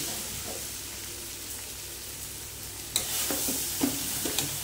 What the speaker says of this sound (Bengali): এই যে মাছের মুড়োটা, লেজাটা আর আলুগুলো দিয়ে সবকিছু দিয়ে এবার এটা কষে নেব।